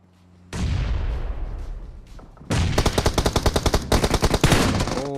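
In the PUBG Mobile video game, a heavy boom is followed by rapid, repeated bursts of automatic fire from a Honey Badger rifle, loud and close, during a grenade-filled fight.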